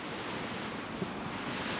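Small waves splashing against a pleasure boat on the Amsterdam-Rhine Canal in the Netherlands, a steady broadband wash of water with wind noise, no voices.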